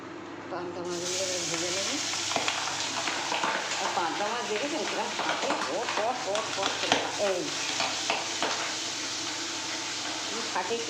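Pabda fish fry in hot oil in a wok, giving a dense, continuous spluttering sizzle with crackling bursts, while a person talks over it.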